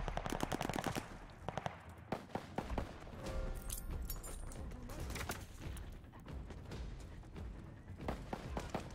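Gunfire in the video game Call of Duty: Vanguard, loud bursts of rapid automatic shots and single cracks, some close and some farther off, with thuds in between.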